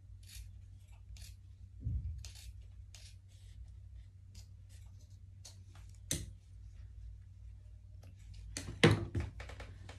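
Scissors trimming surgical garment fabric close up, a sparse series of short crisp snips with a few louder cuts and light handling thumps in a quiet room, no speech.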